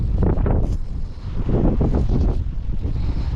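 Strong typhoon wind roars and buffets continuously against the microphone, a heavy low rumble with gusting surges throughout.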